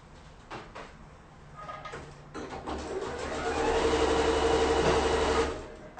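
A sewing machine stitches a basting seam through zipper pouch fabric, starting with a few short bursts and then settling into a steadily louder continuous whirr that stops abruptly near the end.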